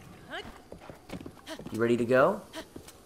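Horse hooves clip-clop in The Legend of Zelda: Breath of the Wild as a horse moves along, with a player's voice talking over it and game sounds mixed in.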